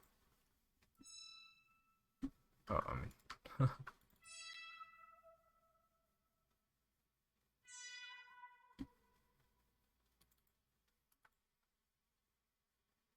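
Bright, sparkly sprinkle effects decorate an FL Studio beat recreation: a few quiet shimmering bursts with glittering descending tones, separated by silence, with a brief spoken aside.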